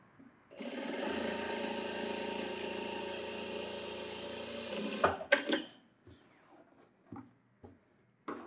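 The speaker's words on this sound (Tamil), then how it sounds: "இப்போ இந்த பக்கம் ஓரத்துலேயும் ஒரு எட்ஜ் தையல் போட்டுக்கலாம்." A sewing machine runs a continuous edge seam on a blouse for about four seconds, a steady whirring hum that stops, followed by a few clicks and handling knocks.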